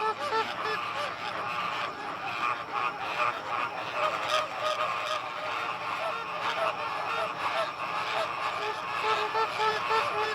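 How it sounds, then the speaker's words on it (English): A large flock of thousands of flamingos calls together in a dense, continuous honking chorus, many overlapping goose-like cries close and far, with no talking. "There are thousands of flamingos here, but keeping hold of them is not so easy."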